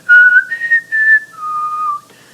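A phone ringtone plays the whistled tune from The Hunger Games alone, a handful of sustained notes stepping up and down in a short, bright tune.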